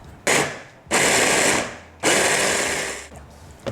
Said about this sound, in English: So the first step is to grind the bread.